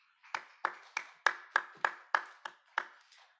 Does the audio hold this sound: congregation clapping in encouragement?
yes